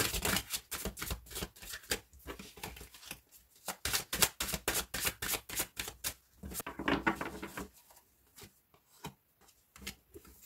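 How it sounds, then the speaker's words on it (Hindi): Tarot cards shuffled and drawn from a deck, a rapid run of crisp, close riffling clicks and card slaps in bursts with short pauses, quieter toward the end. "पहले मैं आपकी आपके लिए तीन कार्ड निकालूंगी"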